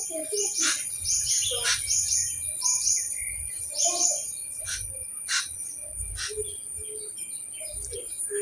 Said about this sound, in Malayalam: ഇതേണ്ട നിറച്ചും കരിയിലെ കിളിയുണ്ടേ. കൊറേ ഉണ്ട്.